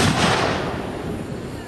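Home-made fireworks bursting in a loud, dense crackling blast that decays over a second or so, close by, with a faint voice underneath.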